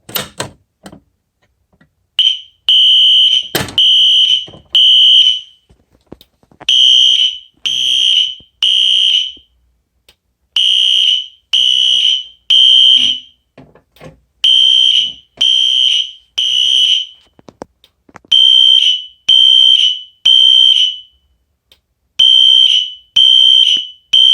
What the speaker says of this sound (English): let's go ahead and re-alarm the system by activating the pyrotronics MS-151